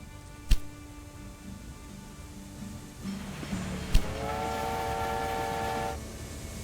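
Train in the video game Railway Empire 2: a steady rolling rail rumble with two sharp clanks, then a sustained horn-like whistle tone for a few seconds before it cuts off, with no talking.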